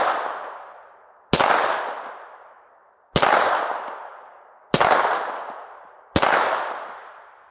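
Four suppressed shots from an M9 pistol fitted with a SureFire Ryder 9 Ti titanium suppressor, each a sharp crack that rings and decays over about a second, spaced irregularly with no talking.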